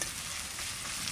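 Onion frying in a pan for a Bengali village-style curry of young green jackfruit, a steady broadband sizzle that stays even and fairly close throughout, with no voices.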